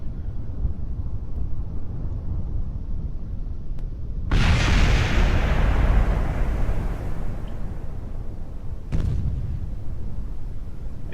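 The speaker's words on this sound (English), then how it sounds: "There goes solar panels and other things exploding." In Kerbal Space Program, solar panels and other craft parts blow apart as a sudden loud rumbling burst rises out of steady low wind-like noise, holds for a couple of seconds and fades, followed later by a second brief boom.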